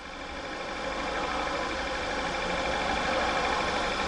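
A Skoda Yeti's 1.8 TFSI engine (CDAA) with a fuel-pressure-too-high fault idles steadily, a close, continuous mechanical drone with a rough, busy texture, holding level throughout with no voices.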